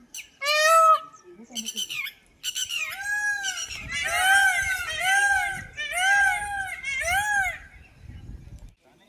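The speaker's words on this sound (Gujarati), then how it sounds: "જો મોરનો અવાજ આવે છે." Peacocks call in the Junagadh forest at Girnar: a series of loud, close, wailing cries, several in quick succession, over a faint low background rumble.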